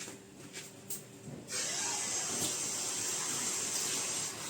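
Water runs steadily from a tap or is poured into a fried cauliflower batter mixture of flour and salt, starting faintly and then becoming a continuous, fairly loud splashing rush that lasts for several seconds.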